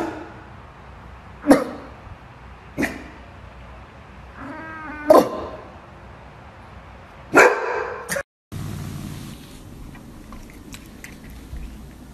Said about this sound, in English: Get the dog off the table!